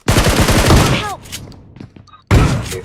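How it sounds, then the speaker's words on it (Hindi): Shotgun fire in a video game, a loud burst of blasts at the start, then a lull with faint game effects before another heavy shot cuts in near the end; a voice is briefly heard amid the blasts. "भाई साहब बहुत शानदार शॉट"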